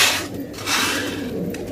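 Pigeons kept in a colourful fancy pigeon collection give soft, low cooing mixed with light rustling, fairly faint and close.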